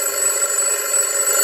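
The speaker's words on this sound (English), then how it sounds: "Pato has set his alarm." A loud, continuous electronic alarm clock rings steadily and shrilly, with no pauses.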